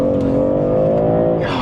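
A BMW M340, with electric boost assisting, accelerates hard toward 60 mph; the engine note is loud and close, climbing steadily in pitch, and no one speaks over it.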